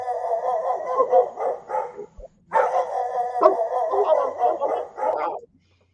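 A dog barking sound effect plays repeated barks in two bursts separated by a brief pause. The barks are clear and fairly loud, sound slightly processed, and no voices are heard.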